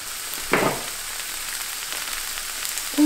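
Sliced artichokes and a garlic clove sizzling in a spoonful of olive oil in a pan, a steady close frying hiss with a brief stirring scrape early on.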